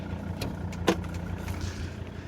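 An older 2.4-litre car engine idles with a steady, low, rough mechanical drone, close and continuous, with a faint tick and knock layered over the hum.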